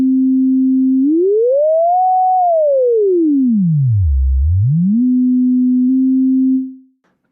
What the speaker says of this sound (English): it simply shifted the sinusoid up and down the spectrum